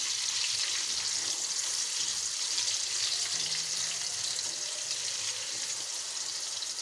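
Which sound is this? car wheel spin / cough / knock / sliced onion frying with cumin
sliced onion frying with cumin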